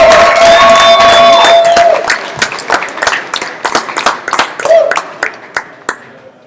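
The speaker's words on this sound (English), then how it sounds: "please help me give a huge round of applause" Audience applause and cheering at a pitch night in a downtown speakeasy: dense clapping with a voice over the first two seconds, then thinning into scattered, uneven claps that fade toward the end.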